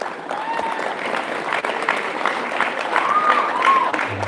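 Dense, steady applause from an audience at a high school spring sports awards ceremony, honouring junior varsity track athletes, holding at an even level for several seconds with a murmur of voices beneath.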